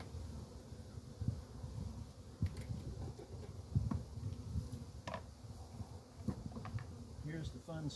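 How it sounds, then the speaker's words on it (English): Bees buzz continuously inside a swarm trap box, a close, droning hum with occasional knocks and handling sounds as the box is moved. "now there's bees still remaining in this box"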